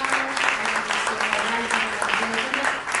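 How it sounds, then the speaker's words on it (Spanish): A crowd applauds steadily throughout, a dense wash of many hands clapping at once, with a voice faintly audible underneath. "Un aplauso, por favor, a nuestros invitados"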